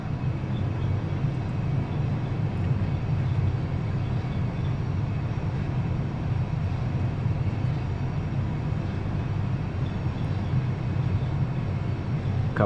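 Airbus A320 on its takeoff roll with takeoff thrust set, heard from inside as a steady low engine roar and rumble that holds at an even level throughout.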